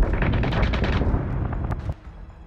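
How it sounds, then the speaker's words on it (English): Dense, rapid gunfire bursts in the space-combat video game Battlestar Galactica Deadlock, loud continuous rattling that tapers off and stops near the end. "gunfire"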